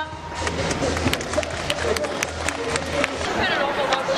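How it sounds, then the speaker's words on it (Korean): Crowd at an outdoor election-fraud protest rally in Daegu, with dense clapping and murmuring voices mixed together, steady and fairly loud throughout and no single voice standing out. "큰 박수로 다음 발언자를 모시도록 하겠습니다."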